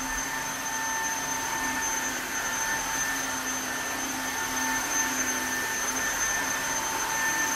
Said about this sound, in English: I'm about to vacuum mop our floors right now